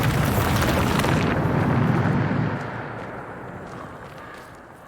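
A Bombarda blasting spell explodes in the video game Hogwarts Legacy, a loud, roaring boom that holds for a couple of seconds and then fades into a softer decaying rumble.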